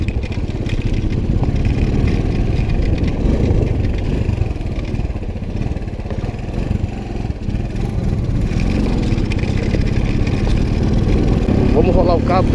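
A motorcycle rides along a dirt road, its engine giving a steady, close drone with revs climbing near the end. Someone talks over it throughout.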